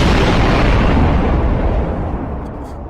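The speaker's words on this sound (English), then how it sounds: "That was an explosion" A loud soundboard explosion effect, a dense booming blast that rumbles on and slowly fades over a few seconds.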